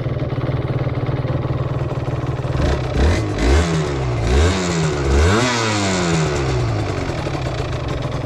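A TDR supermoto motorcycle engine idles steadily at around 1100 rpm, then gives several quick throttle blips that rise and fall before it settles back to a close, even idle.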